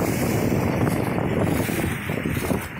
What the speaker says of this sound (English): Still a little windy